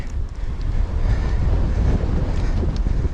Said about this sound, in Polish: ten wiatr się robi momentami wręcz niebezpieczny